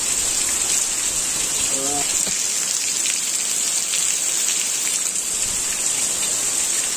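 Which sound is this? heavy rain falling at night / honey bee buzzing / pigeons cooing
heavy rain falling at night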